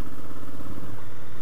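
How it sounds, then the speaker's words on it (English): A Honda Africa Twin motorcycle engine runs at steady speed on the road, a close, continuous low rumble mixed with wind noise over one brief stretch. "Engine's got good feedback."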